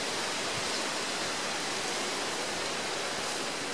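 A stiff, chilly breeze blowing outdoors on a trail morning, a continuous broad rushing hiss that stays even and unbroken from start to finish.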